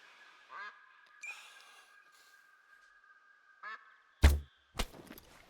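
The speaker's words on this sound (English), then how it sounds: "We also got an Eurasian Wigeon flock over here." A flock of Eurasian Wigeon calls in theHunter: Call of the Wild, with soft whistling and quacking notes over a thin steady tone, followed near the end by two sharp, loud bangs.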